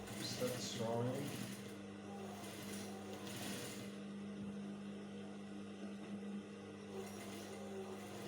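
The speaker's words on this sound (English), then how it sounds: "Start sewing." A sewing machine stitches a senator placket with a steady, faint mechanical hum, while a voice talks over it near the start.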